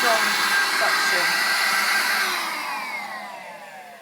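A Vax Air Cordless Switch vacuum cleaner runs with a loud, high motor whine and airy rush, steady at first and then gradually fading in pitch and volume near the end.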